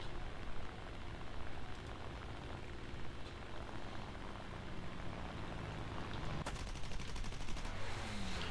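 Aircraft machine guns rattle in War Thunder, fired from an F4U-4B fighter plane in dense rapid bursts over a steady engine drone at a moderate level.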